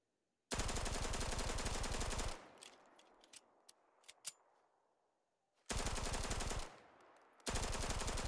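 Call of Duty-style automatic rifle mod in Starfield fires long rapid bursts, loud and close, with a pause of echoing tail and a few scattered impacts between bursts; two more sustained bursts follow.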